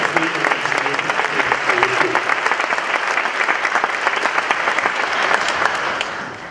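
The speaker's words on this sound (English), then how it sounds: "Please give them a round of applause" Audience applause fills a middle school band concert hall, a steady dense wash of many hands clapping throughout, loud and sustained with a few voices faintly underneath.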